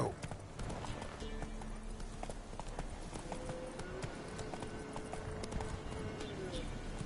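Horse hooves drumming in a steady clip-clop gallop in The Witcher video game, continuous over a game soundscape, with a voice talking over it.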